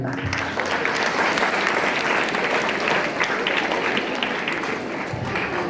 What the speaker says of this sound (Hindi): एक बार जोरदार ताली बजाओ।